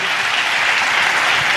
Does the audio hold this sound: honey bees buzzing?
no